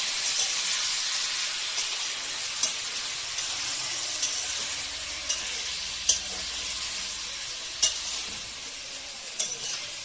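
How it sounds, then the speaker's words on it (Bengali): Meat sautéing in a pan gives a soft, steady sizzle and hiss, broken by occasional sharp spoon scrapes and taps as it is stirred, fairly quiet and close, with no talking. "মাংস কষাই হচ্ছে।"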